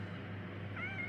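A cat meows once, faint and short near the end, inside a quiet rural village house with a steady low hum in the background.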